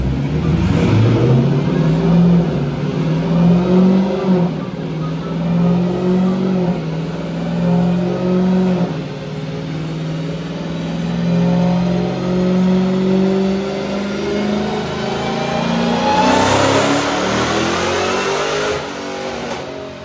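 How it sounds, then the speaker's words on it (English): Supercharged Dodge Challenger Redeye Hellcat roaring on a dyno during a tuning pull, loud close exhaust climbing steadily through the revs with a rising whine, then easing off near the end. "We wanted to go back here to get a clip for y'all too, so y'all can hear the exhaust."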